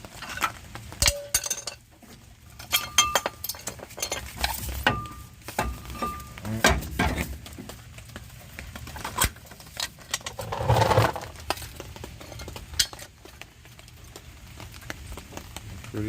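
A pry bar works a brake caliper away from the rotor on a car with worn front brake pads, making close, irregular metallic clanks, clinks and scrapes separated by short quiet gaps.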